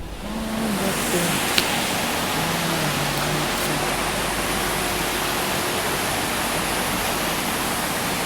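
Steady broadband rushing of a waterfall beside a halted train at Rajapur Road railway station, loud and continuous throughout, with a faint low hum near the start.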